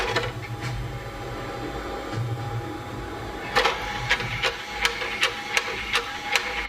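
Xbox console disc tray opening and closing over and over, a low motor whirr followed by a run of sharp mechanical clicks and clacks, close and fairly faint.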